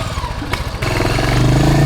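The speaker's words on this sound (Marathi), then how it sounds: "तर आता चला येतोय तो बाईक घेऊन." Motorcycle engine close by, idling with a low steady rumble and then pulling louder and deeper as revs rise, with a brief sharp clank near the start and no talk.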